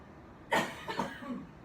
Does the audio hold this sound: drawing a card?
no